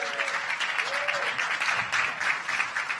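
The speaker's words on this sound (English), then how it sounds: "Let's give her a round of applause." A round of clapping rises from the audience at a DNC Executive Committee meeting, steady and moderately loud, with a few voices faintly mixed in.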